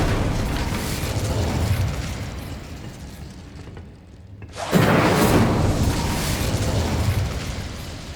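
The Incendio fire spell from Hogwarts Legacy lets out a loud, roaring burst of flame. It follows a brief dip into near quiet and then holds as a sustained whooshing blaze for several seconds.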